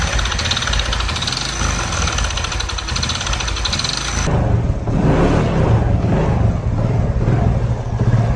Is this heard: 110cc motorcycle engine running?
yes